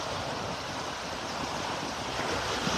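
Small waves wash steadily onto a beach in North Naples, Florida near low tide, a soft continuous surf hiss with light wind noise and no voices.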